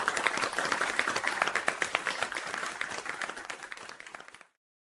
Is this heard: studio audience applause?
yes